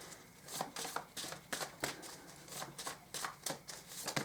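Tarot cards are shuffled by hand, a soft close riffling and flicking in a steady rhythm of quick bursts, faint and with no voices.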